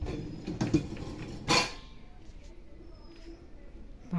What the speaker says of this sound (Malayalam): താഴത്തെ ട്രേ വലിക്കുക.